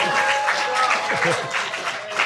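Audience applause for a debater at an April Fools debate event, a steady wash of clapping from a crowd with some voices mixed in throughout.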